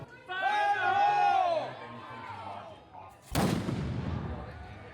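A small keyboard-sized cannon at a Renaissance fair, packed with gunpowder and fired without a projectile, goes off with one sudden loud boom and a rushing blast, after a stretch of crowd chatter and voices.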